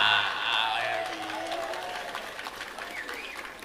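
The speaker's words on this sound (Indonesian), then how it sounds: "Tentara ini ngapa tepuk tangan?" Soldiers seated in an audience at an outdoor religious gathering clap together, a dense wash of applause that fades gradually while a voice rises and falls over it.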